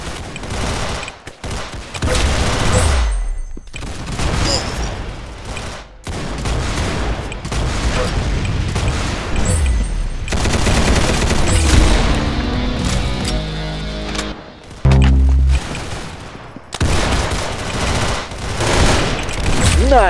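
Gunfire in the Roblox game Arsenal, loud and close, with rapid bursts of automatic fire and single heavy shots packed throughout and barely a pause.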